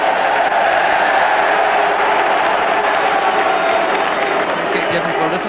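A football crowd at Leeds v Man Utd in the 1992 FA Cup third round roars steadily against a player, Hughes, a dense continuous wash of thousands of voices with a commentator talking over it.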